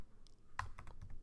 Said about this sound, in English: And then we type in